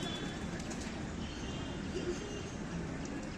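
Pigeons, including a male, coo softly among a steady wash of outdoor noise and wind, the low calls faint and intermittent in the background.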